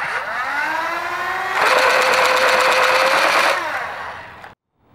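A 12-volt Nerf Rapid Strike blaster firing suction-tip darts on full auto: a rising motor whine spins up, then a dense, rapid burst of firing stays loud for about two seconds before winding down and cutting off.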